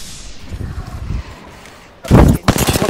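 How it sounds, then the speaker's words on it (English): A grenade detonates in the Apex Legends video game, landing as a sudden loud broadband blast after muffled gunfire and chatter, with a second burst following close behind. "Look out, grenade!"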